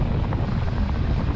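Wind buffeting the microphone while riding a 2024 Yamaha Tenere 700 motorcycle on a main road against a headwind, a steady low rumbling roar filling the whole clip with no talking.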